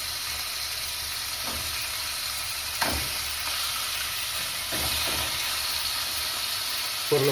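Pork chops sizzle and fry in a hot pan, a steady loud hiss with a few soft clinks and stirring knocks, no voices.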